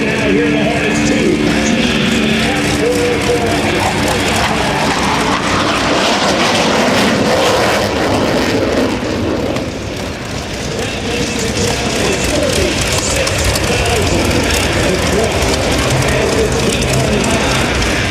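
An F/A-18C Hornet jet roaring past in a demo flyby at an air show, a loud sustained engine rumble and roar throughout with faint crowd and announcer voices underneath.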